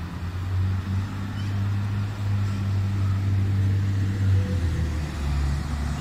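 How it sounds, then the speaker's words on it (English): A city bus in Edmonton pulls away with a deep, steady engine rumble that holds for several seconds and then shifts lower near the end, with constant street noise and no voices. "Oh, success! The first fucking bus going."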